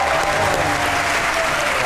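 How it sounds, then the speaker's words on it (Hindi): Studio audience breaks into hearty applause, a dense, steady burst of clapping from a crowd during a televised Pakistani show segment, lasting just under two seconds. "आपकी भरपूर तालियों में"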